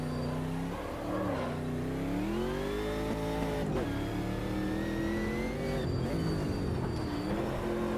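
Engine of an American GT race car in the Automobilista 2 sim racing game, a big, deep, loud engine note rising and falling through gear changes and revs, with faint tire squeal and no talk.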